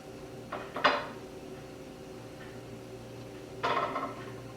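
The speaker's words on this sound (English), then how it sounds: "I'll place a lid on top" A lid is set onto a pan of pork chops on the stove, giving two quiet metallic clinks about three seconds apart against faint background hum.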